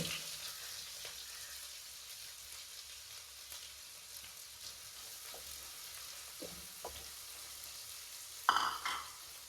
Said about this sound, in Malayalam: ഈ വെട്ടിയൊക്കെ സവാള നമ്മൾ ഇതിലിടുന്നുണ്ട്